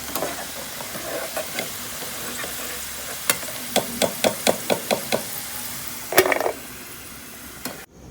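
Vegetable pakoras frying in hot oil in a home kitchen: a steady sizzle runs throughout, with a regular series of sharp taps from a utensil against the pan and a brief louder scrape and bubbling burst near the end.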